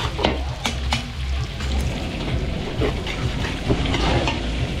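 Garlic and onion sauté in butter at a large event cook-up at a private resort in Calamba, Laguna, giving a steady, dense sizzle with stirring scrapes throughout and no talking.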